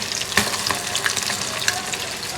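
Steady crackling and spitting of fish frying in hot oil, dense and close, with occasional louder pops.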